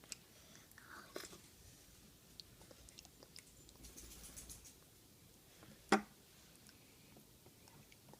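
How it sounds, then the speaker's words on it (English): Quiet, close biting and chewing of spinach: soft wet mouth sounds and small crunches over several seconds, with one sharper snap near the end and no talking. "Lean over and take a bite, please."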